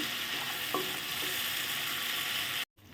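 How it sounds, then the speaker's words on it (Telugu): Tomato pieces sizzle in hot oil in a kadai, the same oil just used for frying dried red chillies. A steady, close, hissing fry runs without a break, then cuts off abruptly near the end. "ఎండుమిర్చి వేపిన బాండీలోనే మళ్ళీ అదే ఆయిల్లో ఈ టమాటా ముక్కలు వేసుకోవాలి"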